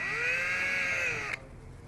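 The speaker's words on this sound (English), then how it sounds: "So just drill this guy out here." Power drill bores a 1/8 inch hole in a snap plate, a loud steady whine that dips slightly in pitch under load before stopping abruptly, leaving a faint quiet tail.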